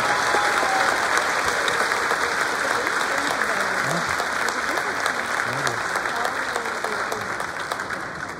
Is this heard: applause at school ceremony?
yes